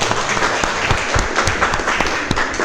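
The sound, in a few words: applause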